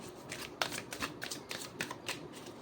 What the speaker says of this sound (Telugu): Card shuffle.